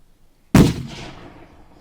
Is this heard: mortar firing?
yes